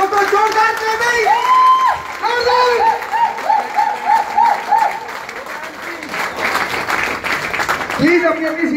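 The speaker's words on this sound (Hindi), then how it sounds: "जोरदार क्लैपिंग, जोरदार क्लैपिंग, जोरदार क्लैपिंग।" Steady applause from a seminar audience, with cheers and a few whoops, while a voice speaks loudly over it.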